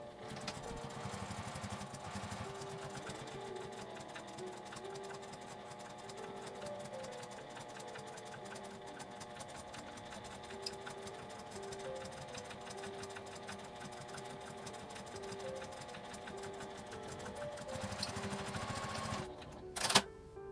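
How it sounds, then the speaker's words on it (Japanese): A sewing machine edge-stitches a small fabric pouch, running continuously in a fast, steady whirring rhythm, close by, ending with a brief clatter as it stops. "端ミシンをかけます。"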